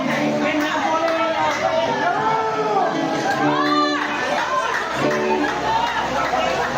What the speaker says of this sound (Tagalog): Grabe, sigawan silang more.